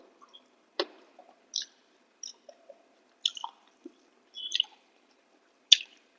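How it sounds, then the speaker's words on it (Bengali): A hand mashing a green chili into rice and gravy during a Bengali home meal, then eating: sparse, close wet squishes, soft squelches and chewing clicks separated by quiet gaps, no talking. "লঙ্কাটা আমি ডলে ডলে খাবো"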